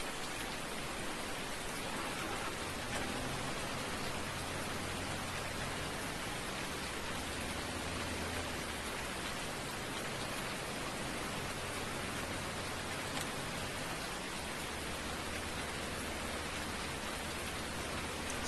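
Steady rain falls in Farming Simulator, a dense, even hiss that holds at the same level throughout with no talk over it.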